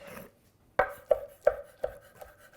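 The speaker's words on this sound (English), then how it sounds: "first thing I want to chop my plum tomato" Fresh peeled plum tomato chopped with a knife on a cutting board, five crisp evenly spaced thuds close up after a short quiet pause, with no voices.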